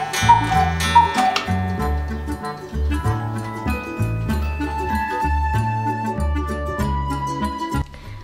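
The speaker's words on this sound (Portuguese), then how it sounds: "e relógios cuco." Cuckoo clocks on display in a shop in Colônia Witmarsum: loud, continuous, even ticking mixed with ringing, tune-like tones that repeat in a steady pattern, with no voices.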